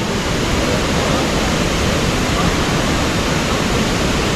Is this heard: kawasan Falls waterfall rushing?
yes